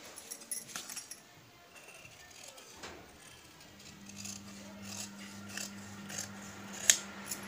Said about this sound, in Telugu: ఇప్పుడు కటింగ్ చేద్దాము.